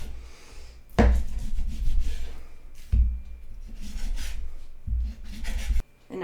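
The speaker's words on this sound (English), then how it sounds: "we'll take our meat and cut it into thick slices, at least 1 inch" A knife sawing through steak to cut thick slices at least an inch wide, rough rubbing strokes on a board with several firm thumps as the blade hits wood, close and loud, no talking.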